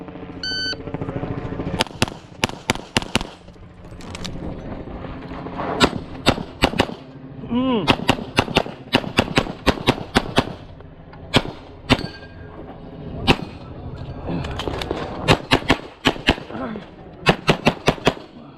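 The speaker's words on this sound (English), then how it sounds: "So this is the gun that I shoot the crap out of. This is my Tech Sport in 9." Rapid strings of 9mm shots from a CZ Tactical Sport pistol on a shooting range, loud sharp reports fired in quick bursts separated by short pauses, with faint background voices.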